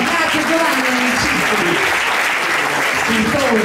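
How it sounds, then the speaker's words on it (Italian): Loud, continuous audience applause for Giovanni at a music charity event, with voices talking and calling out over the clapping throughout. "Un applauso Giovanni, un applauso Giovanni."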